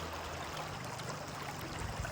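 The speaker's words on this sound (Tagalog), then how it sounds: "samahan pa ng tunog ng agos ng ilog" River water at Tinipak River flows in a steady, dense rushing wash with no distinct events, moderately close and unbroken for about two seconds.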